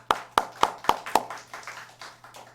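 A church congregation claps together in a steady rhythm, five crisp, roomy claps that then soften into looser, fading patter.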